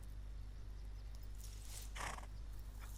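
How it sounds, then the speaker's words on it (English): Soft, muffled hoof and shuffling sounds of a horse in the video game Ken Follett's The Pillars of the Earth, over a low steady hum, with a brief brighter burst partway through; quiet and somewhat distant. "My pony needs to be fed soon."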